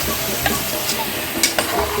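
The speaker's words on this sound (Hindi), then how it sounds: "अब ये जाएगा सारा चिकन, अच्छे से भुनाई करेंगे।" Chicken stir-fried in a pan for an Andhra-style home dish, a steady close sizzle with a few sharp scraping stirs of the spatula across about two seconds, no voices.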